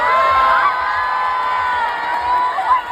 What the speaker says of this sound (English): the crowd is just cheering